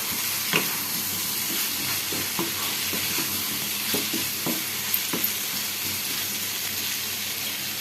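Potatoes fry in hot oil, giving a steady close sizzle with occasional light stirring taps and clinks from a spoon against the pan.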